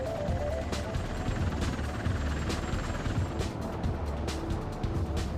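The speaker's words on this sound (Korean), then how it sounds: "2005년 미 해병대는 병력을 작전 지역에 신속히 투입할 수 있는 V-22 오스프리의 운항을" A V-22 Osprey tiltrotor aircraft of the US Marine Corps gives off a steady, loud rotor and engine roar that holds throughout with a constant low rumble and no talking.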